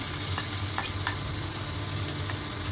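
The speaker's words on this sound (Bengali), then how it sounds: "জিরেটাকে ভালো করে ভাজবো। এর মধ্যে কুচনো পেঁয়াজ দিয়ে দিলাম," Cumin seeds and chopped onion fry in a pan for dal tadka with a constant dense sizzle and a few soft stirring taps, close and steady with no voices.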